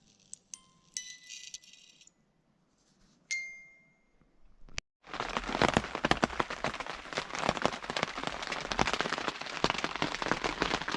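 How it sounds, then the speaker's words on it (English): Heavy rain pelts down on a tent at night in a steady, dense patter that begins abruptly partway through, after a few scattered clicks and rattles close by. "the rain sucks."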